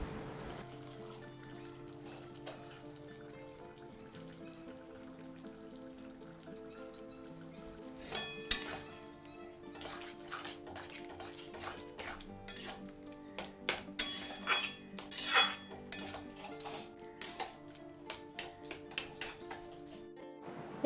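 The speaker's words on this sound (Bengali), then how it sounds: "ভাবলাম কুকারটা ধুয়ে নিই" A pressure cooker and other dishes being washed at a kitchen sink, with quiet running water at first, then clattering pots and clinking utensils growing busier and louder in irregular bursts.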